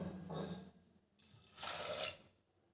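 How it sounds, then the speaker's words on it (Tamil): Water pours in two short bursts into a pressure cooker holding soaked red lobia beans, a soft close splashing with a brief pause between, quiet and without talk. "தட்டாம்பயிறு முங்குற அளவுக்கு தண்ணியும் சேர்த்துக்கலாம்."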